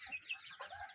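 A mother hen on a farm gives a few quick, soft clucks in a brief, faint burst heard on its own.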